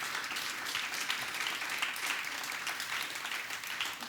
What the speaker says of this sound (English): Perhaps a big round of applause for our speakers